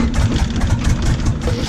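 A small homebuilt airplane's engine runs at steady idle, a continuous low droning rumble with a faint rhythmic pulse, close and fairly loud, with no voices over it.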